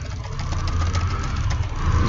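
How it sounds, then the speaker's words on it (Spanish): A motorcycle engine drones steadily from outside a small room, a low continuous rumble with a slight knocking character that holds at a fairly even loudness throughout. "Una moto, perdona, perdona."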